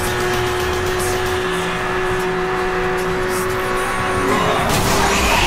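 A Porsche racing in Need for Speed Hot Pursuit: a steady, loud engine drone with a sustained whine holds throughout, with tire squeal and skidding rising near the end, and a voice talking now and then over it.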